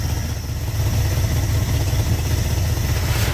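A 1972 Dodge D200 truck with a blown muffler runs loud and close, its engine a rough, steady roar that swells slightly near the end.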